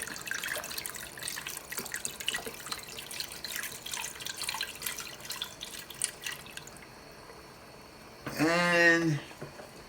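Cold water, about two and a half cups, pours into a pot of lentil soup, a short loud gushing splash near the end that follows quieter kitchen clatter and dripping.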